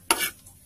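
Garlic fries briefly in a pan, a sharp sizzling burst as it is stirred, lasting under a second and fading quickly.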